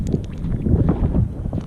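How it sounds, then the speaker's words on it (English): Wind buffets a microphone outdoors on a nature walk, a loud continuous low rumble with gusty fluctuations and no clear talk. "It's windy as heck."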